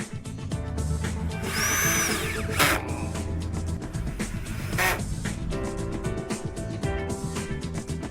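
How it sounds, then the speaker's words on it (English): A power drill drives a screw through a fixing clip into timber battens, its motor whining and surging in close, continuous bursts with a pitch that rises and falls as the screw bites. "you can now add a screw to their side in order to fix them to the battens"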